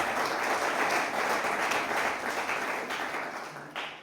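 Church congregation giving a sustained round of applause, dense and even, fading slightly toward the end.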